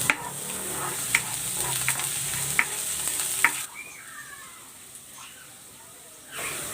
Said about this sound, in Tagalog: Maglalagay ako ng cooking oil. Igigisa ko na tong bawang.